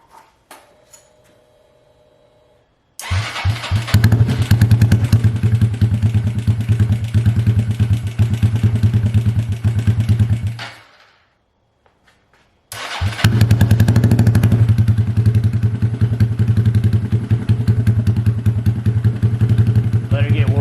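A 2022 Honda Grom motorcycle with a newly installed cam fires up for the first time, running loud and close with a steady rough idle and blips, cutting out briefly before restarting and idling again; faint voices come through early on.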